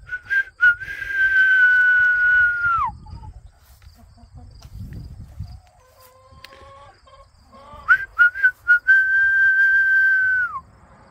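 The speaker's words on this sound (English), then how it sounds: "If I whistle at him, like I do to the workers, he'll jump up usually and flap his wings" Person whistling at a rooster on a farm with a pumpkin patch, two long loud sustained whistles with a quiet stretch and a softer warbling tone between them.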